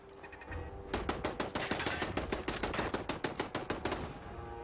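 Rapid automatic gunfire in modded Fallout 4, a loud, sustained string of sharp shots fired in quick, steady succession with short gaps, alone without talk.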